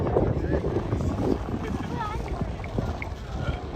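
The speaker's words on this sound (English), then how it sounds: "it really gets windy around here too" Steady wind buffets the microphone in a continuous low rumble, with faint outdoor activity underneath, including people skating, at Kensington Market.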